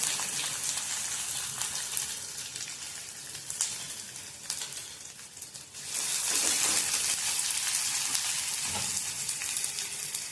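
Green chillies and garlic sizzle and crackle in hot oil in a pan, a steady close frying hiss that grows louder and fuller midway through.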